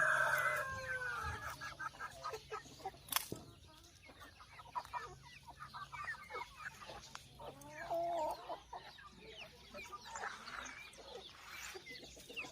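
Chickens clucking and a rooster crowing inside a farm coop, with a steady stream of overlapping calls at moderate distance and a sharp louder squawk partway through, without any talking.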